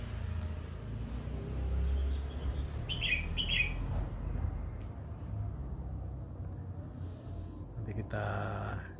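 Birds chirp in a home yard at dawn, with a few short, bright tweets above a steady low rumble of passing traffic and faint background voices.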